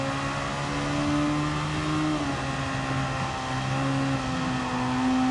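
Race car engines from Gran Turismo 7 hold a sustained, buzzy high-revving drone with steady harmonic tones that waver slightly, continuous and fairly even in loudness throughout.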